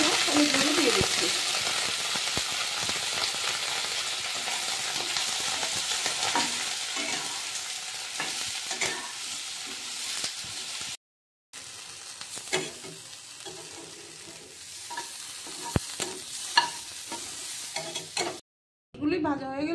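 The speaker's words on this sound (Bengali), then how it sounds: "তেল গরম হয়ে গেলে ঢেঁড়সগুলো আমি ভেজে নিচ্ছি হালকা।" Okra fries lightly in hot oil with turmeric, giving a steady close sizzle with crackles and occasional stirring clinks, broken by two brief silent gaps.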